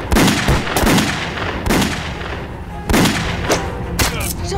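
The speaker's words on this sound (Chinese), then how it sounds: "是邢木灵，我引他开枪，你把他揪出来。" Gunfire in a Chinese anti-Japanese war action film, several sharp loud shots cracking at irregular intervals, close and echoing, with a bit of background noise between them.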